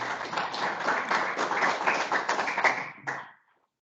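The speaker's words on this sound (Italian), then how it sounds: "un applauso per accogliere il nostro relatore dall'Università della Calabria" An audience in a geopolitics lecture hall in Trieste applauds to welcome a University of Calabria lecturer: dense, steady clapping from many hands that holds evenly, then stops abruptly and fades out.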